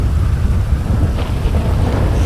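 Steady rainfall with a deep thunder rumble in GTA 5, a dense, even wash of sound at close range with no talking.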